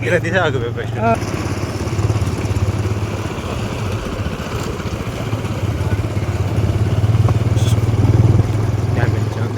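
Motorcycles and auto rickshaws idle and rumble in dense traffic around a village fair, a steady low engine drone with clattering and rising revs throughout, and voices talking over the noise.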